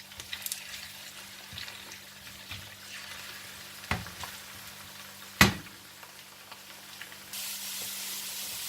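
Diced potatoes frying in oil until golden brown for aloo palak, a quiet low sizzle with occasional sharp clinks of a spoon against the pan and a louder rush of hiss near the end.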